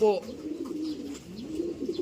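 A pigeon coos in a few low, rolling phrases close by, with faint background noise.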